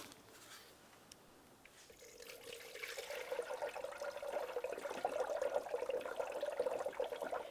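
Motorcraft orange coolant poured into the coolant reservoir of a 2009-2019 Ford Flex, a steady liquid pouring that starts after a quiet couple of seconds and continues close by, growing slightly louder, with no talking.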